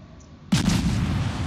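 A Harikaze destroyer's guns fire in a naval video game, a single loud boom that rings out into a sustained rumbling blast after a quiet start.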